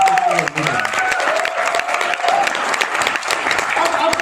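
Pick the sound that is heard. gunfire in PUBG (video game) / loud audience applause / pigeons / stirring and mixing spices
loud audience applause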